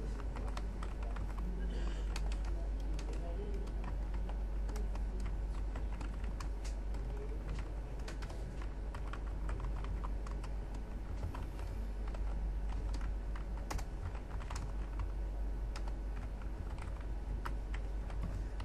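Continuous typing on a computer keyboard while writing PHP code, with irregular rapid key clicks and occasional pauses, close and fairly quiet, over a steady low hum with no talking.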